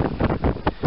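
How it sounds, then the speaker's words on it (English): Gusty wind buffets the microphone in rough, uneven bursts, a low rumbling roar with no voices. "Hopefully the audio is all right on this because it's so windy."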